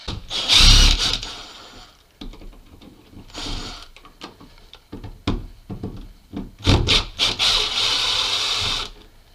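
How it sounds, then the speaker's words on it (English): Screws come out of a wall light switch plate with a power driver while a Teckin smart switch is being fitted: several short, loud whirring bursts with irregular pauses and light handling noise between them. "First thing we have to do is take these screws out."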